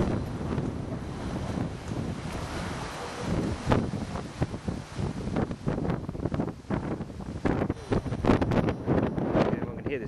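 Wind buffeting a camera microphone outdoors at the Glastonbury festival, a loud continuous rumbling roar with gusty surges and voices partly buried beneath it.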